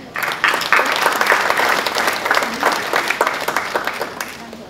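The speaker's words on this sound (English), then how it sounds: "a big round of applause for all our fellow members." A large audience at a peace conference session gives a full round of applause for fellow members, loud sustained clapping from many hands that swells quickly, holds steady, then begins to taper off.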